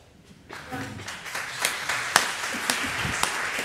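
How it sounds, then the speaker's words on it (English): An audience starts applauding after a woman is called up to the front at a Sunday church talk, a loose wash of clapping that builds from near silence and grows denser, with a few sharper claps standing out. "What are you applauding for?"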